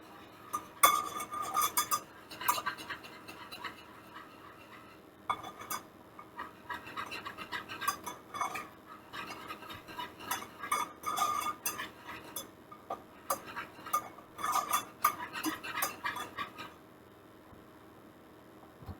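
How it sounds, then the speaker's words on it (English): Gravy being whisked constantly in a pan as it thickens and bubbles: a close, busy metallic scraping and clinking of the whisk against the pan in fast bursts, pausing briefly before settling back into steady whisking. "I'm just constantly whisking until this gets thick and a little bubbly"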